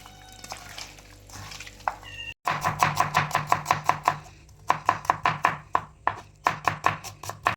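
Onion is chopped finely on a board: a fast, even run of sharp knife strikes, loud and close, following a short stretch of quieter kitchen noise.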